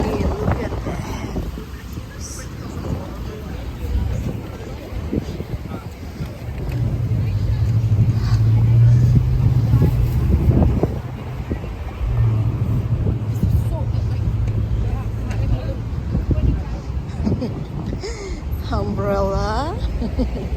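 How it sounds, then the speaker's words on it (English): Strong wind gusts roar steadily by a street outdoors where people are camped overnight for the Rose Parade in Pasadena, a broad continuous rush close to the microphone with voices talking over it. "Oh my God, the wind, look at that."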